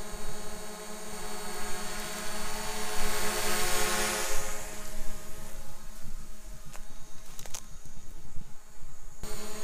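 A small camera drone flies outdoors with a steady, high, whining propeller buzz that holds throughout at moderate loudness, with no speech.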